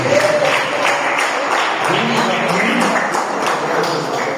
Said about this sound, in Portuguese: Pode acelerar e aplaudir o rei com palmas